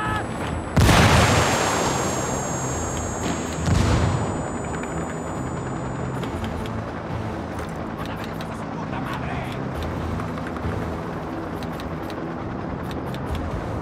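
A grenade blast and gunfire in Ghost Recon Wildlands: a loud close boom early, a second blast soon after, then scattered distant shots under ongoing voices and battle noise.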